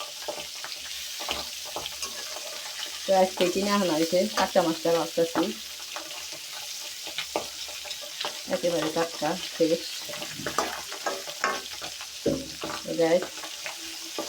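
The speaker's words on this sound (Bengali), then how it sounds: "আমি যে উল্টে দিতেছি মাছগুলো সবগুলো একটা একটা করে" Pabda fish frying in a pan after being flipped one by one, a steady sizzle running underneath while someone talks over it in bursts.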